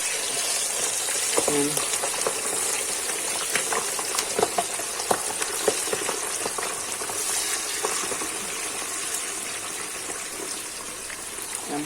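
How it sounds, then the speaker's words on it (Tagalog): Very hot cooking oil boiling and sizzling in a pan before chicharon pork skin goes in, a steady close crackle with scattered pops and a short spoken word over it. "Sobrang init po nito. Kumukulo po ito. Kumukulong mantika."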